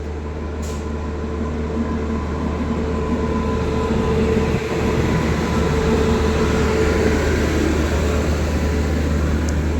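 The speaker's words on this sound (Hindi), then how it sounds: "और ये सामने से कोई ट्रेन आ गई। WAP 7 के साथ।" The Nandan Kanan Express, hauled by a WAP-7 electric locomotive, passes alongside with a loud, continuous rumble and a steady low drone of rolling wheels, heard close up and unbroken for nearly ten seconds.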